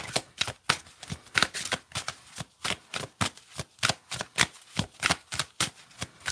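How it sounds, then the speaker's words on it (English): Tarot cards are shuffled by hand close up, a brisk run of rapid riffling slaps repeating in an even rhythm for several seconds with no voices. "Let me get the shuffling going here."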